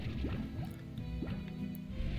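Liquid being collected in the game Slime Rancher, with soft wet dripping and gurgling filling sounds over a steady layer of game music, moderately quiet and continuous throughout.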